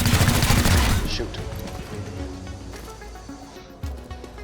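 Gunfire from a trooper being shot in the video game XCOM: Chimera Squad: a loud burst of rapid shots up front that trails off into quieter game effects and low rumbling.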